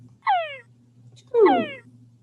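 Two descending frequency-modulated frog whines, each about a third of a second, separated by a pause, clear and close against a low steady hum.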